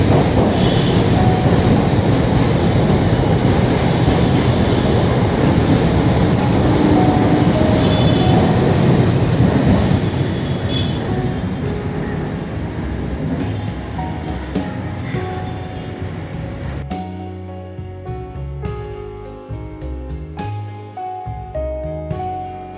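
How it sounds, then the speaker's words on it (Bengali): A train rumbles past nearby beside the Jagannath temple at Khidirpur, next to the station, loud and steady with rhythmic wheel clatter, then fades away, leaving faint knocks and background noise. "দেখতেই পাচ্ছেন ট্রেন যাচ্ছে ঠিক মন্দিরের পাশে"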